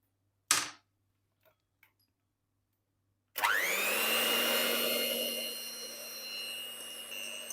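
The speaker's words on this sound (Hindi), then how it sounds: "अब बाकी का काम मैं करूंगी इलेक्ट्रिक बीटर की मदद से।" An electric beater whirs into a steady, loud, high-pitched drone while mixing a hot milk cake batter of eggs and cooking oil, preceded by a sharp click and a few faint taps before starting.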